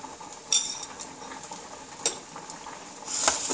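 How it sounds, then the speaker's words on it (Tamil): Spices tempering in a spoonful of hot oil for Srirangam-style lima bean kootu give a soft sizzle, with a few light metallic clinks from stirring in the pan and a brief hiss swelling near the end. "இப்போ தாளிக்க போகிறோம்."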